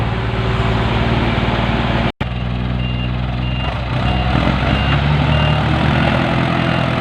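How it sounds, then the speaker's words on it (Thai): A six-wheel truck reverses toward a stuck tractor to tow it, its engine idling loudly and close with a continuous steady rumble and a repeating reversing beep. "หกล้อกำลังจะถอยมาดึงครับ"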